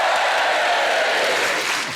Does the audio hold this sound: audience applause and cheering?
yes